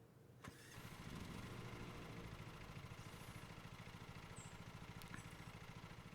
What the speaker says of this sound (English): Hold X to start the engine.